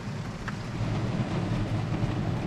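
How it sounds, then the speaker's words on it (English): Rain arrives over a cornfield during harvest, a soft steady wash of rainfall with low rumbling underneath, continuous and fairly faint with no talking. "And the rain is here"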